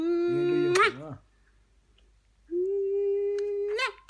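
A dog whimpers in two long, high, whining cries separated by a pause of near silence, each rising into a strained squeal at the end.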